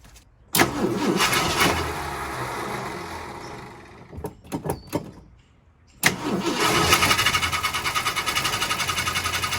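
A 1970 Ford Country Squire wagon engine cranks briefly, then falls silent with a few clicks before cranking again and catching into a loud, steady idle with a rhythmic pulse, heard up close.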